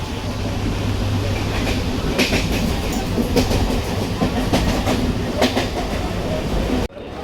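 A fast Mumbai local train rattles along at speed, rhythmic clickety-clack and steady rumble from inside a carriage, with brief faint voices, then an abrupt cut.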